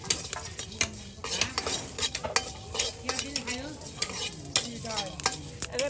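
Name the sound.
frying cumin and garam masala spices in a pan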